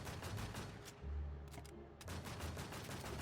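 Rapid gunfire from shooting bosses in the video game Warz Infestation Fantasy, dense bursts of automatic shots with deep booms, continuous and loud with brief dips, no talk.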